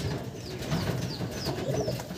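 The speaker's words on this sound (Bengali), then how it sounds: "রেসার পায়রা।" Racing pigeons in a loft coo softly in repeated, low rolling calls, several birds overlapping at close range under a faint background hum, with no talk.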